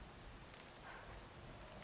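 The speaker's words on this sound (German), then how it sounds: "Und es regnet" Steady rain falling in the open world of Horizon Forbidden West, a soft even hiss of drops on surfaces, faint and continuous with no talk.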